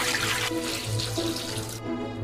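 Tap water runs steadily into a bowl holding eggs and a spoonful of salt in a kitchen sink, a continuous close splashing rush that cuts off near the end.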